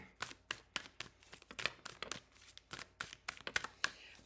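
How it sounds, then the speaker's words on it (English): Quick, crisp riffling and snapping of playing cards being shuffled, repeated bursts at close range with no talking. "As I'm shuffling the cards"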